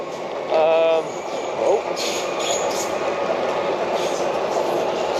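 Steady rumbling interior noise of a FlixTrain running from Berlin to Basel, a continuous broad roar with a brief high squeal near the start and faint voices in the carriage.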